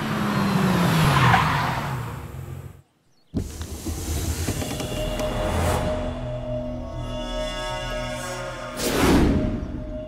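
A car braking hard to a stop, tyres squealing and skidding loudly, then a brief silence, then more engine and tyre noise and another loud burst near the end, with no talking.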